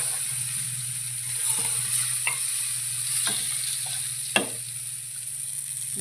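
Fish frying in a pan gives a steady, even sizzle throughout, with a few sharp utensil clinks and scrapes scattered over it.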